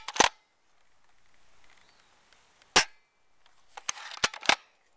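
An airsoft BB gun fired several times, sharp snapping shots close to the mic, one alone and then a quick cluster near the end, with quiet gaps between.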